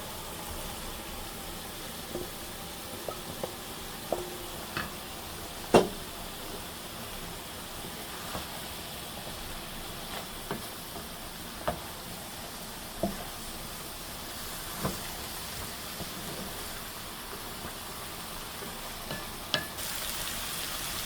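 Potatoes fry in a pan of methi saag with a steady, low sizzle, broken now and then by faint clicks and stirring taps, heard close up for about twenty seconds with no talk.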